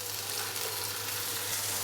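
Finely chopped tomato sizzling with lightly fried ginger-garlic paste in a pan, a steady close hiss of frying that carries on without pause and with no talk.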